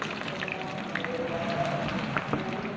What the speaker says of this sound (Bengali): 3টে তেজপাতা, 3-4টে এলাচি, 2 টুকরো দারচিনি, 5-6টা গোলমরিচ দিয়ে এগুলোকে আমি তেলের মধ্যে কিছুক্ষণ ভেজে নিচ্ছি